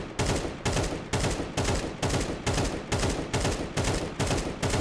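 Loud AK rifle fire in a video game, sounding as a steady run of sharp, close bursts repeating about twice a second throughout, with no voices over it.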